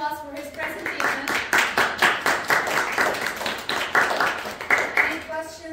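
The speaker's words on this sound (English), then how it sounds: "let's give him a round of applause for his presentation" A small audience claps after a presentation, a short round of distinct, rhythmic hand claps with a voice speaking briefly at the start and end.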